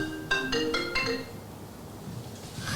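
A phone ringtone plays a few quick repeated electronic tones, then fades into faint room sound.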